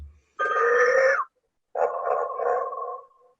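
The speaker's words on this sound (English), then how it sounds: "In 2000, they made this talking animated telephone." An animated Scooby-Doo talking telephone toy from 2000 gives two loud electronic ringing bursts with a short silent gap between them. The second burst is longer and wavers in pitch.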